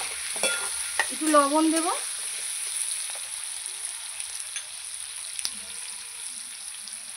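Potatoes and onions sizzle softly in a pan as a utensil scrapes and stirs them, with a quiet frying hiss throughout and someone speaking briefly near the start.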